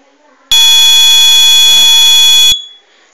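A loud, harsh electronic buzzer alarm on a Zigbee-based car management system blares continuously for about two seconds, then cuts off abruptly, with faint background noise before and after.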